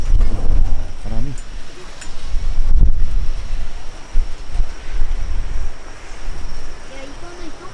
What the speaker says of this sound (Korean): 와, 바람 무섭네.